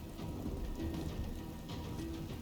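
A rain spell in the role-playing game Divinity Original Sin 2 makes a constant, hissing downpour with low rumbling beneath, heard alone for a few seconds.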